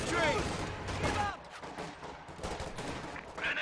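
Infantry gunfire in the World War II strategy game Company of Heroes 2, a spattering of faint rifle and machine-gun shots under a talking voice amid battlefield noise.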